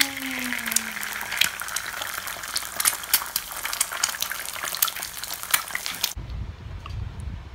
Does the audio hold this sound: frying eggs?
yes